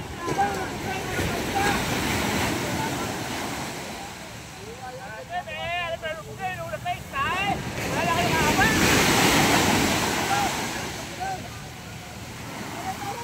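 Sea waves surge and break in a loud, continuous rumble with swelling peaks, mixed with wind buffeting the microphone and a person talking over the surf in the middle.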